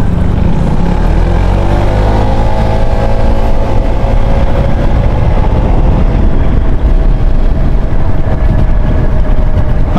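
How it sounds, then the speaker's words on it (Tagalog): A motorcycle engine running roughly, a loud, close, continuous low rumble with an uneven sputtering texture. "Parang nagwigil yung motor ko ah"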